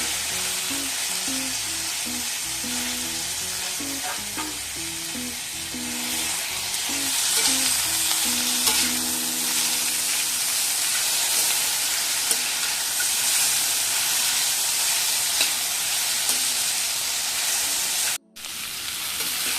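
Tomato and Kashmiri chili fry in oil in a pan, a continuous loud sizzle with occasional stirring knocks, cut by a brief dropout near the end.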